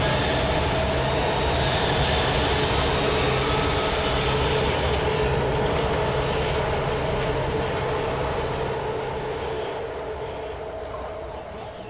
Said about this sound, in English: That's actually the sound of a subway train that they recorded as it was like shooting past.